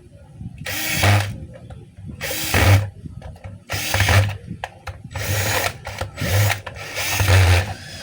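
A DeWalt D25810 5 kg jackhammer chips in repeated loud bursts of rapid pounding, about six close bursts separated by short pauses.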